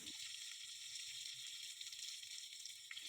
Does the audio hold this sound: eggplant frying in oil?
yes